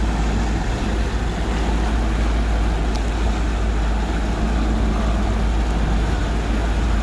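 A motorboat engine drones steadily and loudly while cruising on the water toward a cove, a constant rumble with wind and water wash and no pauses.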